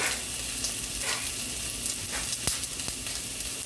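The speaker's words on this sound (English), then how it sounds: "I'm just adding some onion in there that I chopped up that little half of an onion." Half an onion, chopped, sizzles and fries in a pan alongside hamburger steak, a steady close crackle and hiss with occasional pops and a few stirring scrapes.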